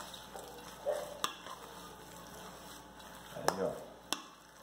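A mixture of ground beef and mashed potato being stirred in a pan, with soft scraping and sizzling, a few sharp utensil knocks against the pan, and faint talk in the background.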